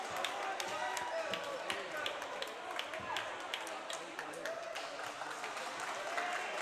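A boys high school basketball team claps as it heads to the locker room at halftime, Los Gatos against Mountain View in a busy gym. Steady clapping and crowd noise run throughout, with sharp bursts and a murmuring crowd behind.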